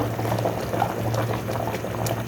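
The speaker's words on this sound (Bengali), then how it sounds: "এই যে আমার রোস্টটা বলক চলে আসছে।" A pot of chicken roast curry at a steady rolling boil, with a continuous dense bubbling and gurgling that holds an even level throughout and has no talk over it.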